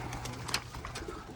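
Soft cooing from a white-feathered pigeon, a low rumbling coo repeated under faint background noise, with a brief sharper chirp in the middle.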